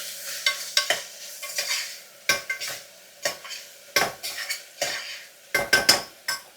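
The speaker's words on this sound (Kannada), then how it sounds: "ಇದು ಸ್ವಲ್ಪ ಟೊಮೆಟೊ ಚೆನ್ನಾಗಿ ಫ್ರೈ ಆಗಬೇಕು" Chopped tomato frying in a pan for Mente Bath, stirred with a spoon in repeated scraping strokes that clatter against the metal over a soft sizzle, close and fairly loud.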